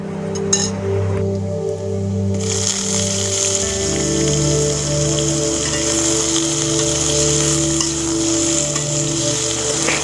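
Chopped ridge gourd frying with onions for Bengali jhinge posto: a steady, close sizzle with light clinks, running over a constant low mechanical hum, with no one talking.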